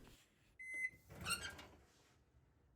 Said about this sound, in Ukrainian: ставимо розтоплювати в мікрохвильову піч на півтора хвилини